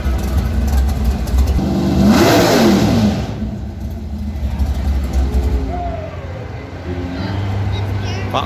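A drag car engine at a Texas hot rod show gives one loud, close rev that swells and drops off, over crowd murmur and outdoor background noise.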